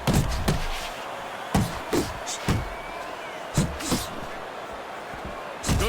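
Punches land in the boxing video game Fight Night Champion, in a Rocky Marciano versus Muhammad Ali bout: about seven sharp, irregularly spaced thuds and smacks over a low, steady background hum.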